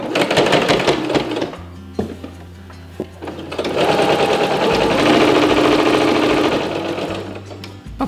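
A sewing machine hems the short end of a linen tea towel in a loud, steady run of rapid stitching with short pauses, alone without talk.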